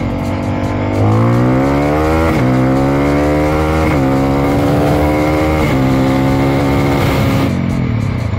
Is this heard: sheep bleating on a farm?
no